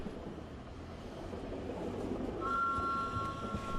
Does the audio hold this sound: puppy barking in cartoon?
no